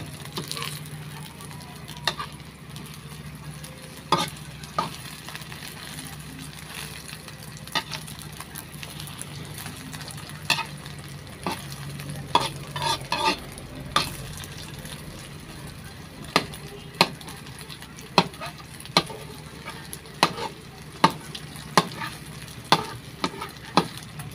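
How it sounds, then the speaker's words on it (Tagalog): Food being toasted and stirred in a frying pan: steady soft sizzling under repeated sharp scrapes and clicks of a utensil against the pan, irregular at first and then quicker and more regular, close and moderately quiet, with no talking. "Tutostahin natin to."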